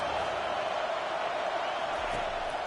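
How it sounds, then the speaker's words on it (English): A stadium crowd roars continuously at a football game, a dense, steady wall of noise with no clear breaks, loud and enveloping throughout. "Listen to this crowd just shaking the girders of this place, trying to help their defense."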